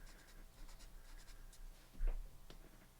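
Colored pencil drawing strawberries on paper, a faint, close scratchy scribbling of short harsh strokes repeating throughout, with one slightly louder stroke near the middle.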